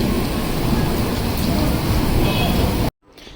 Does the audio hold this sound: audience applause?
no